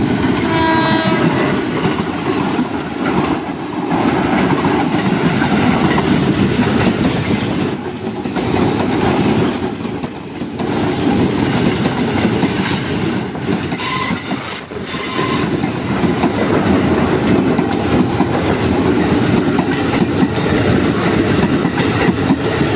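Trains pass each other near Manggarai station on an Indonesian line, with a KRL commuter train rolling by close and loud: rhythmic clickety-clack of wheels, squealing, and a horn sounding, continuous for over twenty seconds.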